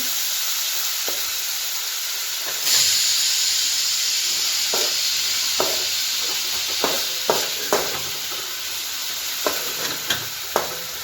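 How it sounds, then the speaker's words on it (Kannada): Food frying in oil in a pan over a low flame, a steady close sizzle and hiss with soft clicks and scrapes of stirring scattered throughout, no voices. "ಸ್ವಲ್ಪ ಫ್ರೈ ಆಗಬೇಕು"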